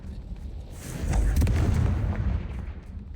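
A Confringo spell explodes in a video game, a deep booming blast that swells midway and rumbles on before slowly fading.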